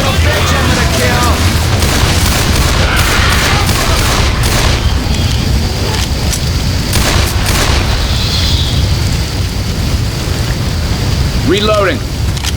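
Loud, dense stretch of in-game combat from Left 4 Dead 2, with a pipe bomb blast booming among rapid gunfire bursts, rumbling continuously throughout, while character voices call out over the chaos.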